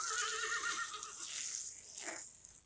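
A horse whinnies close by at an eventing competition, a high wavering neigh with a brief second call near the end.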